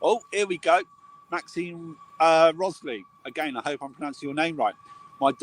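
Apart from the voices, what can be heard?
No everyday noises stand out.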